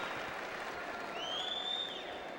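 Tennis crowd at Arthur Ashe Stadium, US Open, applauding steadily after Andre Agassi closes out the first set against Lleyton Hewitt, a broad even wash of clapping from a large audience.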